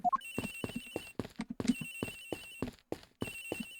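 A telephone rings repeatedly from behind walls in the Ace Attorney Investigations video game, a muffled electronic trill repeating in short rhythmic bursts, alone without talk.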